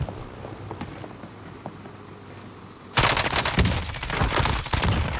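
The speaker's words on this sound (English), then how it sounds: "Movement. Small caliber rounds here." Sudden loud burst of small caliber automatic gunfire in a Call of Duty game, rapid cracking shots firing continuously for a couple of seconds after a quiet stretch of faint ambience.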